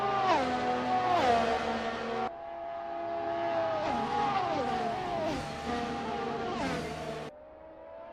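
Sim racing cars lapping Monza scream past at high revs, engine notes sweeping up and down through gear changes and overlapping as several cars pass, loud and close with no talk.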